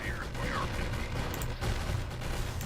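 Gunfire in the video game Zero Hour, a steady rolling spatter of shots running continuously with low rumble beneath, fairly distant and at moderate level.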